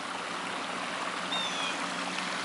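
A waterfall and stream rush steadily in a landscaped outdoor setting with driftwood, a continuous moderate hiss of flowing water with a faint high whistle partway through.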